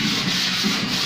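Hand sanding a puttied wall with 120-grit sandpaper, a steady close scratchy rubbing with slight rhythmic swells, loud and continuous with no voices.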